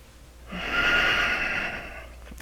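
A single slow, audible breath, drawn in and released through the nose during a standing yoga pose, swells and fades close by in a quiet room.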